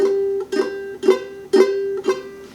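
Five strummed barre chords on guitar in steady succession, badly fretted so each sounds muddy and buzzy rather than ringing clear, with dull muted strings.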